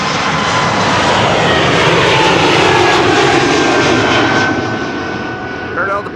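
Jet airliner departing runway 36L, the Polderbaan, at Amsterdam Schiphol, a loud roaring engine rush sustained throughout and easing slightly at the end, with a voice talking over it.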